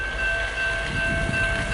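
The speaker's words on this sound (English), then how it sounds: "Here comes the train." Grand Canyon Railway train arriving at the station in a snowstorm, a steady loud rumble of the approaching train with a sustained horn tone over it, continuous and close, no speech.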